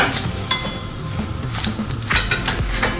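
Knife chopping pea sprouts and cabbage for a salad on a cutting board, a run of close, uneven taps and clunks with occasional sharper knocks, no talk.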